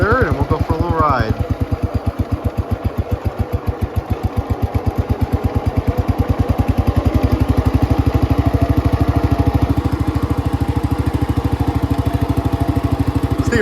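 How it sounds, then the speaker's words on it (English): A Cub Cadet 104 garden tractor engine runs steadily in third gear, high range, with a loud, even, rapid mechanical beat throughout and no talk over it. "Put her in third and we'll go for a little ride."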